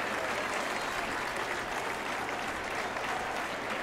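Continuous crowd applause and cheering for a stage win in the Pro Cycling Manager 2022 racing game fill the scene as a dense, even roar, with no clear speech.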